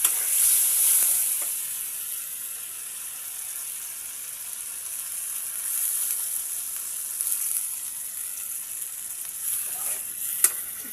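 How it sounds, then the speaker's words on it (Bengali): Spiced water with ground ginger, garlic, cumin, turmeric and salt is poured into hot oil in a frying pan for a fish curry, giving a soft sustained sizzle with faint stirring scrapes and a few sharper clicks near the end. "এবার এই যে মশলার পানি দিচ্ছি"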